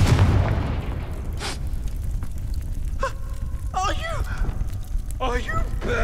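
A fire spell blasts in the Hogwarts Legacy video game, a loud burst right at the start that fades away, followed by voices crying out.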